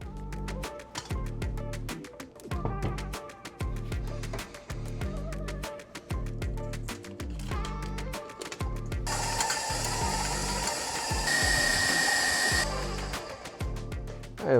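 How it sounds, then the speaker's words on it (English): A stand mixer creams butter and sugar, its motor whirring with a rhythmic clatter of the beater knocking in the bowl, rising to a louder, steadier whine toward the end, close and alone without talk. "We're going to take them all over to our mixer, start by creaming the butter"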